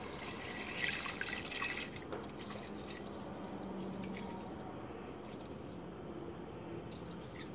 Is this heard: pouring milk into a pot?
yes